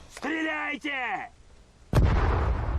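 Gunfire in a Sudden Strike 4 Stalingrad battle: a voice shouts a command in game, then a sudden loud blast of shooting bursts in with a dense, rumbling crackle that carries on to the end.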